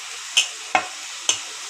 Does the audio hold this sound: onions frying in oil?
yes